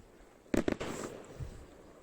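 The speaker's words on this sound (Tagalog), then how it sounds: "Makapag-experience ka ng fireworks display, ho." Fireworks bursting over snowy Tromsø, Norway, a few muffled distant pops and crackles in quick succession over quiet outdoor ambience.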